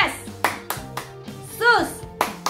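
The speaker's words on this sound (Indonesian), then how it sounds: "Tepuk tangan Yesus." Children at an online kids' church worship service clap their hands in a rhythmic song pattern, sharp separate claps spaced unevenly, with a voice singing or calling between them.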